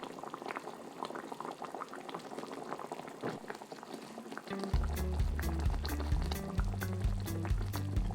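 Hamburg steaks simmer in sauce in a covered pan, a soft bubbling and gurgling that swells midway into louder, steady burbling with a low rhythmic rumble from the lid or pan.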